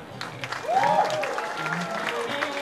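Audience clapping at a 2010 Purim concert, a short burst of applause mixed with crowd noise and a voice speaking over it.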